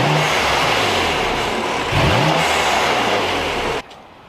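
A modified BMW M4 engine revving with the hood open, a loud rough rumble that swells near the middle and then cuts off sharply near the end, leaving quiet idle.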